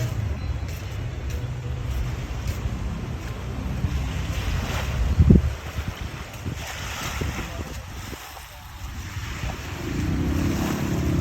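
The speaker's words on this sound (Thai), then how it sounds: "เป็นทะเลแล้ว" Sea waves wash ashore at Koh Larn, with a constant rushing surf and strong wind buffeting the microphone, and a deeper swell builds toward the end.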